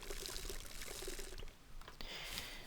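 Water pours steadily in the survival game Scum, a continuous splashing stream that eases off briefly in the middle before resuming, heard alone and fairly close.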